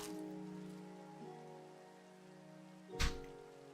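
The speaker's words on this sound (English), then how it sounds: "the rain starts." Rain in a video game falls as a soft, steady patter beneath sustained tonal game music, with a brief louder splash-like burst near the end.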